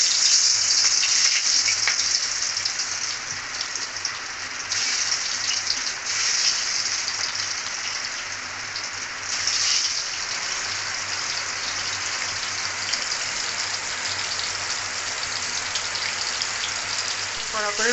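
Rohu fish frying in hot oil in a wok: a dense, steady sizzle and crackle, loud and close, lasting throughout and easing slightly midway, with no talking.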